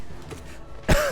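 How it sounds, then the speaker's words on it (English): A single sharp cough, or throat clearing, bursts right into the microphone near the end after a short quiet stretch, loud and close. "I don't mean to be coughing right into it."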